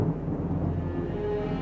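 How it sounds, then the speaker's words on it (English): Low, rolling rumble of thunder from an approaching storm, heard outdoors where a car is being worked on. It is a steady, dull roar that fills the whole short stretch. "the storm is coming in"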